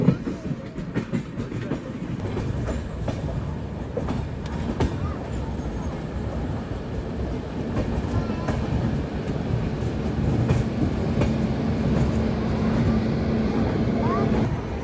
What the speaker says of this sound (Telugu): ఫుల్ గూడ్స్ ట్రైన్లు ఉన్నాయి, మాల్గాడీలు.